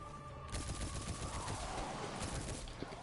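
Gunfire from the Outlaw weapon in the Destiny game, a quick run of sharp shots over steady background game noise, moderately loud throughout with no talk.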